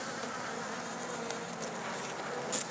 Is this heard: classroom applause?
no